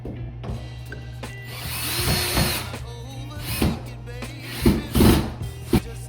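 A power drill whirs in short bursts as a self-drilling anchor is screwed into a wall, with scraping and knocks between runs.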